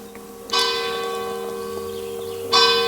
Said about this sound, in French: Encore les cloches.